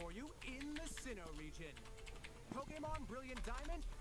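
Quick clusters of computer keyboard keystrokes tapping along under a person speaking throughout, with the clicks close and moderately loud.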